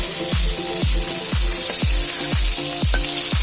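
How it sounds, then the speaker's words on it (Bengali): Shrimp frying in hot oil in a wok: a loud, steady sizzle with a repeated low thump roughly every half second, close up and with no talking. "ওরা ভাজা হতে চাচ্ছে গরমের তাপে"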